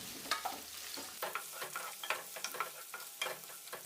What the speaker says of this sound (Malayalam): അതും കൂടി ചേർത്തിട്ട് ചെറുതായിട്ടൊന്ന് വഴറ്റിയെടുക്കാം